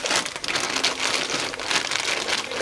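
Dry pasta rattles and rushes steadily into a saucepan in a dense, crackly pour lasting a couple of seconds, close up with no talking.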